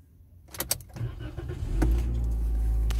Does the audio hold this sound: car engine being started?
yes